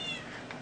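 A single short cat meow from the Minecraft video game, fairly clear and close, with no talk.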